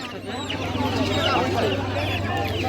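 Chickens cluck and squawk close by at a busy livestock and bird market in Bardhaman district, their calls running continuously under a voice asking a price.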